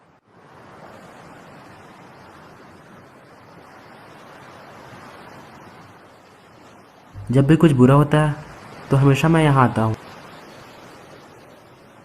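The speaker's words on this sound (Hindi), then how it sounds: "अपनी आंखें बंद कर समुंदर की लहरों को सुनकर मुझे शांति मिलती है।" Sea waves wash steadily on the shore as a soft, continuous surf, with a person speaking briefly over it in the latter part.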